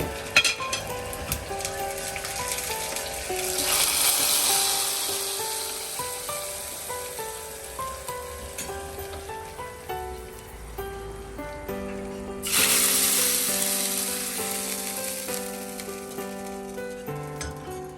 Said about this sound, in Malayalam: വെളിച്ചെണ്ണ, കറിവേപ്പില, കടുക്, പിന്നെ ചെറിയ ഉള്ളി, വറ്റൽമുളക്, ഇത്രയും മതി നമുക്ക് സാധാരണ താളിക്കും പോലെ തന്നെ